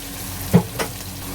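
Water goes into a pan of cooking masala for cauliflower and peas, raising a steady sizzle and frying hiss, with a couple of brief bubbling spurts, close and without talking.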